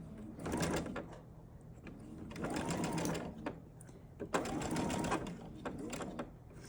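A sewing machine stitches a small quilt block, running in three steady whirring bursts of a second or two each with short pauses between, close and clear, with faint handling clicks around them.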